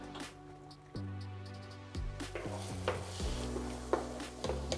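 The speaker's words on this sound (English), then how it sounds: "we're gonna get our eggs to start cooking, and we're gonna get these babies scrambled" Eggs scramble in olive oil on a hot pan, with soft sizzling under scraping and stirring strokes of a spatula and occasional clinks against the metal.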